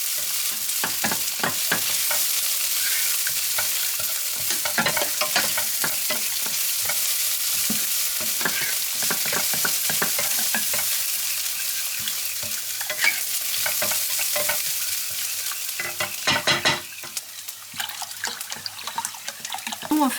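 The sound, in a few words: onions frying and being stirred in a pan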